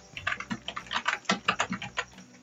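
Keys clatter on a computer keyboard in a quick, uneven run of about a dozen close strokes, with no one talking.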